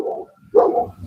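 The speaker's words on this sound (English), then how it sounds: "Oh, he is barking, man." A big dog gives a couple of short, close barks outdoors, a brief woof followed by a louder, fuller one after a short pause.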